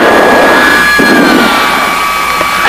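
Twin piston engines of a Piper Seneca running together just after start-up, a loud, steady close drone with a faint whining tone, no voices.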